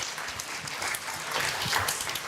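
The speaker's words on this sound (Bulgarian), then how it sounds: "Моля вашите аплодисменти за тези прекрасни момичета." An audience at the Avgustiada 2020 queen pageant ceremony applauds the contestants, a moderately quiet, continuous wash of many hands clapping that swells slightly toward the end.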